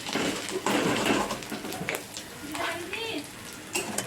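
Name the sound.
stirring and frying crushed green chilies in a pan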